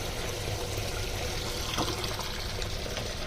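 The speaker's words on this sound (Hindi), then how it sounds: "उसको पानी भर रहा है, अपने आप भर रहा है, ज़्यादा मत करो वरना पाइप मोड़ेगा" Water fills up through a pipe with a steady rushing trickle, constant and moderately loud throughout with no talking.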